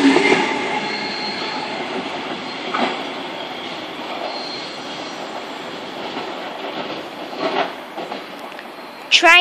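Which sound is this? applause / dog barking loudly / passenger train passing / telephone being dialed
passenger train passing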